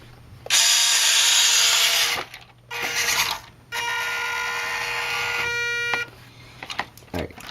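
Small steering motor of a WPL 1:16 scale RC military truck whirring in several close, loud bursts with a high-pitched geared whine, separated by short pauses.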